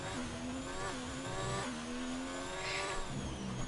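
A Formula 1 car engine in a racing video game at the Spanish Grand Prix, screaming loud and steady with pitch drops as it brakes and downshifts, plus brief tire squeal.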